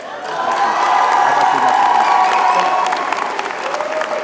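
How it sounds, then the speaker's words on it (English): Loud applause mixed with cheering and whoops from a graduation ceremony crowd, swelling quickly and holding strong before easing slightly toward the end. "come on, a little applause for academic affairs, right?"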